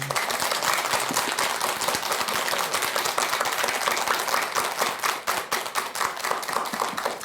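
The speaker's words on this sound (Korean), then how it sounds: "박수 한번 크게 쳐주세요" An audience at a Buddhist lecture breaks into loud, dense applause, a steady wash of many hands clapping that keeps going without a break.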